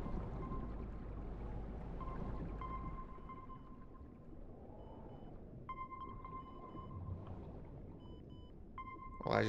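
A hidden collectible box in GTA Online gives off repeated electronic sonar pings, steady tones that come and go over a low watery game ambience.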